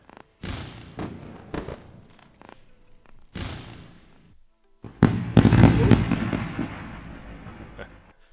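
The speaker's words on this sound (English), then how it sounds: "Let's do some fireworks." Fireworks bursting in a rapid string of sharp pops and booming thuds, scattered at first and then building into a dense, loud cluster of overlapping explosions that crackle and fade.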